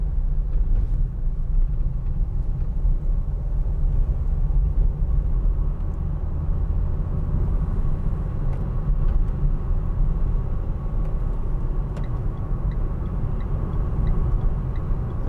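A 2015 Vauxhall Vivaro 1.6 CDTi ecoFLEX BiTurbo Sportive panel van pulls away and drives on, its diesel drone and road rumble heard steadily from inside the cab with no talk.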